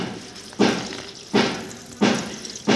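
Water poured off sediment in an X-ray film silver-recovery process, in four regular surging splashes under a steady background hiss.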